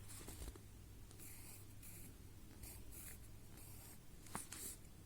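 Pen or pencil writing numbers on paper, a steady faint scratching with short strokes throughout, fairly close and alone under a low background hum.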